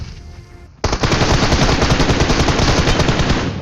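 Sustained automatic gunfire from PUBG Mobile, a rapid loud burst of shots that begins abruptly after a brief quieter moment and keeps rattling continuously to the end.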